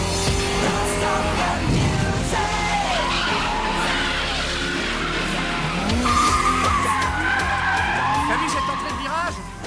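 Young Takahashi's car in the Initial D anime skids downhill with loud tire squeal and a revving engine that rises and falls. Excited commentary runs over it.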